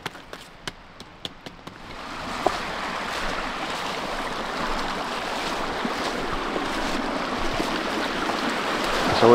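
A mountain torrent rushing steadily near a cave campsite, a broad continuous wash of flowing water that rises after a few sharp clicks at the start, close and fairly loud with no talk.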